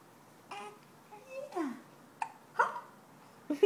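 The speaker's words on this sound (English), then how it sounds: "I like this hiccup thing" Young baby girl giving a handful of small, soft hiccups spaced irregularly, close and quiet, mixed with faint babbling sounds in a calm room.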